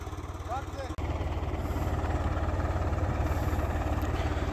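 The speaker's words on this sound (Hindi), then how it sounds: "अपना ट्रैक्टर चल रहा है" A tractor works during sugarcane sowing, its engine chugging at a steady rapid idle-like pulse, close and loud throughout after a brief break near the start.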